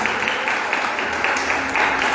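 A church congregation applauding, a steady wash of many hands clapping that holds evenly for the whole stretch, moderately loud and slightly distant, with little speech over it.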